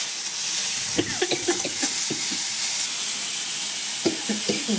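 Mango chutney cooks in a small amount of oil, giving a steady close sizzle with intermittent clinks and scrapes as it is stirred.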